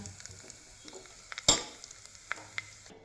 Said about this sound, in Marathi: आता फोडणीला तडका दिला हळद टाकू याच्यात